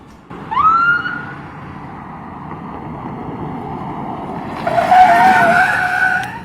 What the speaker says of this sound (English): as soon as I heard the sirens chirp and the tires squeal